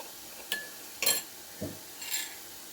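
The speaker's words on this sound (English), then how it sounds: "I put some more water in here to get the rest of it off the glass" A drink is stirred and rinsed in a glass, giving four light, separate clinks and taps spaced about half a second apart. They sound close and quiet against a soft background.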